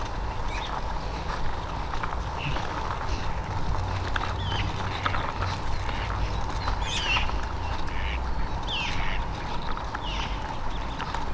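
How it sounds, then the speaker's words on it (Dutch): Ducks with young ducklings quack repeatedly in a neighbourhood setting outdoors, the calls moderately close over a steady low background hum. "Nu zitten ze de kwakers, de eendjes."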